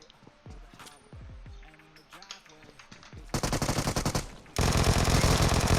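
Vector submachine gun fire in PUBG Mobile, close-range bursts of rapid automatic shots that grow louder and denser toward the end, preceded by softer game sounds and scattered pops.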